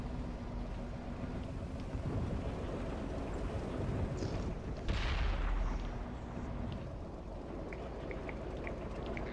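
An M8A1 tank cannon fires in the World of Tanks console game, a single heavy boom midway through over a constant rumbling engine and battle ambience, followed by faint scattered clicks.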